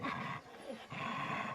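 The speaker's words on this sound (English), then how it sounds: "A lot of growling and attitude already" Several dogs growl in low, rough bursts, two longer rumbling stretches separated by a short pause, fairly faint and close.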